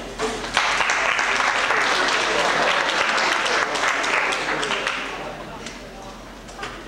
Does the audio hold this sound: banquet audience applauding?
yes